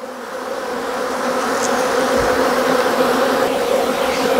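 A swarm of honeybees is being transferred into Apimaye hives while frames are handled. Their dense, steady buzzing is close and loud and fills the whole stretch without a break.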